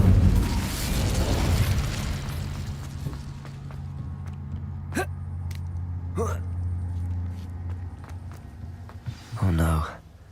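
A fire spell cast in Hogwarts Legacy bursts with a loud, rumbling whoosh at the start that fades into a low roar, followed by a few short pops and a brief voiced exclamation near the end.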